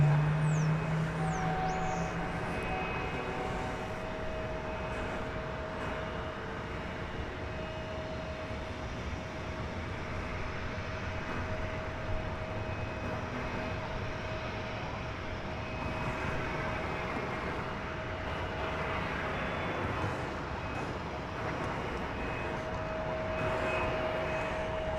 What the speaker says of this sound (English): So we've got an A300 coming in.